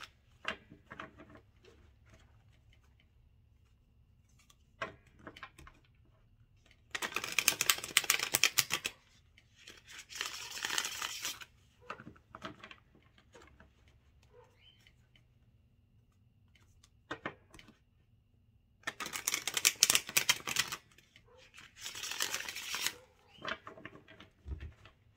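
Tarot cards shuffled by hand in two long bursts of crisp riffling, each riffle a dense flutter of card edges snapping together, with quiet gaps between and no talking.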